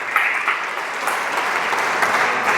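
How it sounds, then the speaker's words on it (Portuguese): A church congregation breaks into steady, dense applause during a sermon, loud and close, with clapping sustained throughout and no talk over it. "Se faz sentido, aplauda o Senhor Jesus."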